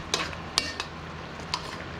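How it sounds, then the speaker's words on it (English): A spoon stirs a simmering beef tongue bistek dish with lemon and soy sauce, giving a few soft scraping clinks over a steady low sizzle, close and fairly quiet. "just stir this around with a spoon and give it a taste"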